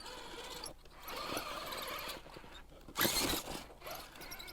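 Axial Capra RC crawler with a Spektrum sensored ESC and motor climbing a steep sandstone formation, its motor and drivetrain giving a busy mechanical whir and creak with bursts of throttle, loudest near the end.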